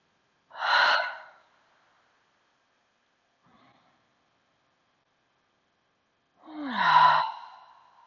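Two slow, audible breaths during a yoga session, separated by a long silent pause, each a soft airy rush close to the listener, the second ending in a low sighing exhale.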